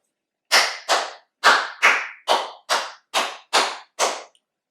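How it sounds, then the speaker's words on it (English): Nine sharp hand claps ring out close and loud in a steady rhythm with a short pause after the first two, each one crisp with a quick decay into silence. "we'll clap to the top, we'll clap to the side, we'll clap to the bottom"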